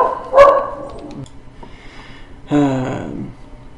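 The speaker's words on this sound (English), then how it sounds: "Sorry about that dog barking." A dog barks nearby, loud and sharp, two separate barks about two seconds apart with near silence between them.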